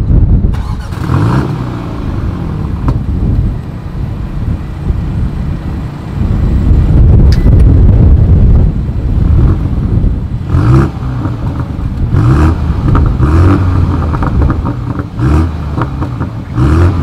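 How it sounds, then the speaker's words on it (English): A 2020 BMW M235i Gran Coupe's exhaust roars through repeated revs and accelerations, loud and close, rising and dropping in pulses with brief lifts between pulls. "This is probably going to be an amazing sounding exhaust clip."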